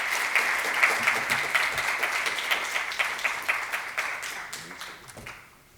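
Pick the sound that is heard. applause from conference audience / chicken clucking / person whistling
applause from conference audience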